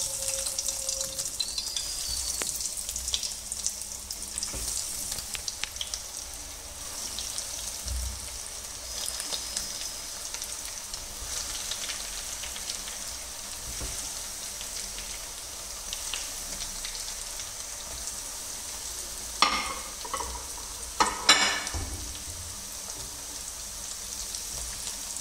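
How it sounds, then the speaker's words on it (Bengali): Vegetable chops fry in hot oil, giving a steady crackling sizzle close by that lasts throughout, with occasional stirring clatters and brief louder pops near the end. "এবার এটিকে ফ্রাই করব। আমার তেল গরম হয়ে গিয়েছে,"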